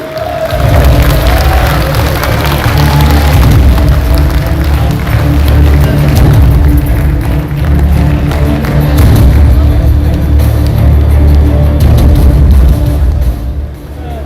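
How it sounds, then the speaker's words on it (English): Applause and cheering from the crowd at the Universe Pro global opening ceremony greet the company's CMO, loud dense clapping over booming stage music that swells and holds before easing at the end. "please join me in giving a very warm round of applause to the Universe Pro CMO, Mr. Terry"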